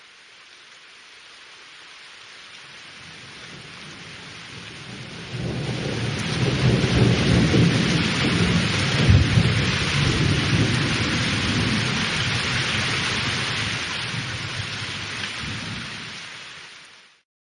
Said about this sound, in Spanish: Empezó a llover suave, luego de un momento a otro la lluvia incrementó muy fuerte.